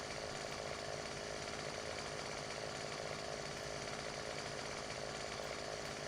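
A chainsaw in the video game Farming Simulator 17 runs steadily, a constant dense buzzing drone that stays the same all the way through, with no talk over it.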